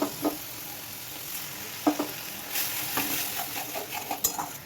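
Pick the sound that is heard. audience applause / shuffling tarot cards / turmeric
turmeric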